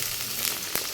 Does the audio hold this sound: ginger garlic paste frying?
yes